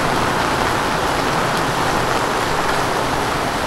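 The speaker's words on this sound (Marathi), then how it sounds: "ह्या पावसातला 2025चा सगळ्यात मोठा पाऊस चालू झाला आहे बघा" Heavy monsoon rain pours down in the Konkan with a dense, unbroken roar of falling water and splashing on surfaces, loud and constant throughout.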